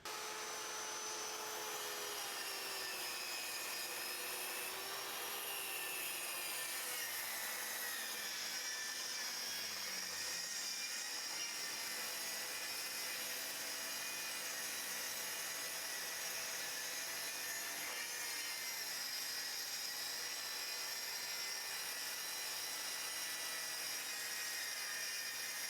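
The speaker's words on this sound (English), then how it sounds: "it's a corded track saw" A Grizzly Pro corded track saw cuts through 3/4 inch red oak with a loud, steady, high-pitched whine that holds unbroken for the whole stretch.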